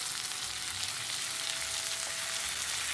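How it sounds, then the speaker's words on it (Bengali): Prawns sizzle steadily in a pan with capsicum and onion, making a dense, even frying hiss with a faint stir near the middle and no speech. "চিংড়ি মাছ দিয়ে কিন্তু আবার একটু ভাজা ভাজা করতে হবে"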